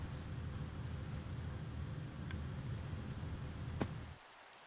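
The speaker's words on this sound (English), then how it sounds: "It's raining." Rain falls in the video game Minecraft, a soft continuous hiss with a low rumble, faint and steady, with a short click near the end before it cuts to near silence.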